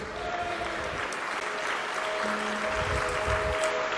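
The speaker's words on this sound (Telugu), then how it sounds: "ఒకసారి దేవునికి చప్పట్లు కొడుతున్నారు." A church congregation claps together in steady, sustained applause for God after a worship song, a dense even patter filling the hall with faint voices beneath it.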